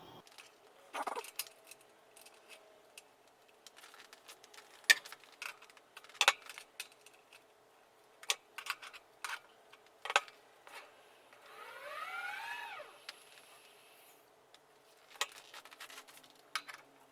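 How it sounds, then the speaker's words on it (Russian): An electric fat bike hub motor spinning up on the throttle gives a brief, faint rising whine, set among scattered ticks and clicks in a quiet room. "Нажимаю курок газа, мотор крутится"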